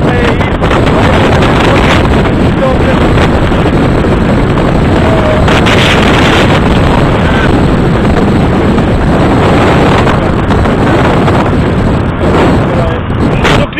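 Steady roar of wind rushing through a partly opened car window while driving, loud and continuous throughout with road rumble beneath and occasional faint voices.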